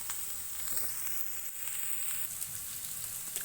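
Chilies sizzling in a hot pan with oil, a steady bright crackle and hiss that stays fairly faint throughout, with occasional small pops and no voices.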